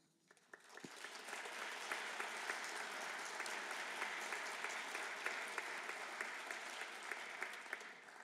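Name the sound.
audience applause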